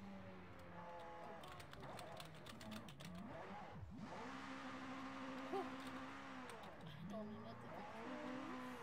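A McLaren race car driven in a video game: a sustained engine drone rises and falls with gear changes, with brief tire squeals and skids along the way, and speech appears to run beneath the game audio.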